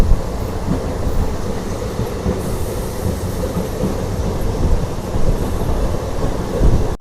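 A DEMU passenger train runs on rails between Secunderabad and Siddipet, heard from aboard as a loud, steady rumble with rhythmic wheel clatter and faint squeals, no voices.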